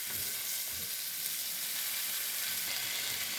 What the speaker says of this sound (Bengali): কি সুন্দর করে সবজিকে ভেজে নিলাম